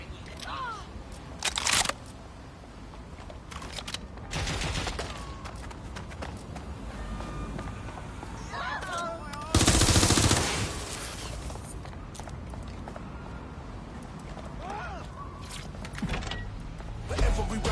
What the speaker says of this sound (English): I need cover! I've heard shots!